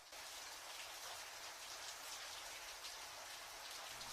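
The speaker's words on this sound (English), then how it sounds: "Where's the leak even coming from?" Water leaking in a video game apartment makes a faint, steady patter of dripping and splashing, like light rain on a surface, and it goes on unbroken with no voices.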